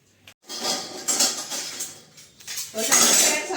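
Dishes and cutlery clatter and clink together in a steady jumble of metallic knocks and scrapes, close by and fairly loud, with no voices.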